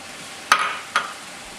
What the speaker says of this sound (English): you're just going to kind of give that a stir